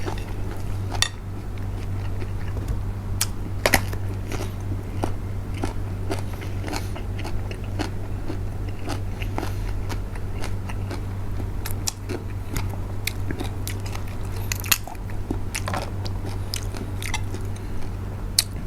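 Close chewing and crunching of soft yet crisp eggplant in a fiery spicy Thai shrimp rice-noodle salad, steady mouth sounds over a constant low hum, with occasional clinks of utensils and no talking.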